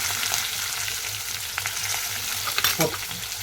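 Onion and curry leaves frying in hot oil, a dense, even sizzle with crackling pops and a brief stirring scrape near the end, close and continuous without speech.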